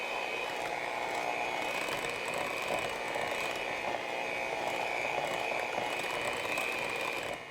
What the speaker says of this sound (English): let's get our mixer back and mix this up again